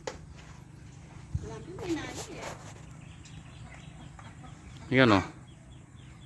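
Black rooster on a farm clucking with a couple of brief throaty calls, one louder near the end, heard under a person talking nearby with faint background ambience.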